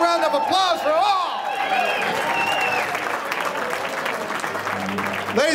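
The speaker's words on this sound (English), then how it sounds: "Let's have a big round of applause for all." Sustained applause from a crowd at a high school athletic hall of fame dinner, steady clapping filling the room with some cheering, fading slightly toward the end.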